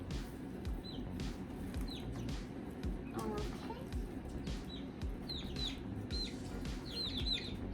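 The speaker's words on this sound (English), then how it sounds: "Chickens are at my feet going crazy right now" Chickens cluck and chirp repeatedly close by, with scattered short calls over a busy rustling background, and a brief voice partway through.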